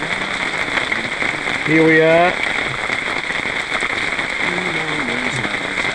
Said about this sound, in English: it is fair pouring down with rain